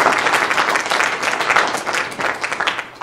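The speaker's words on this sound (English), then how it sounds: "If you could all give them a round of applause for" Applause from the audience for the judges of an FFA chapter speech contest, a full, sustained round of many people clapping that swells and dips slightly, with no talk over it.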